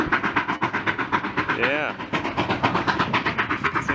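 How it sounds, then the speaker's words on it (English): The Silverton-Durango train rolls in, with a steady rhythmic clickety-clack of wheels on rail joints and a brief wavering whistle partway through, heard fairly close while a person speaks a word. "we have the Silverton-Durango train coming in"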